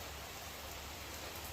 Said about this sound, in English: Sit out here in the rain.